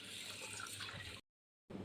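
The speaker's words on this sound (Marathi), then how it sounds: "आपण दुसरं पाणी त्यामध्ये टाकायचं" Water pours steadily onto washed rice in a container for soaking, a close, continuous splashing rush that stops abruptly partway through.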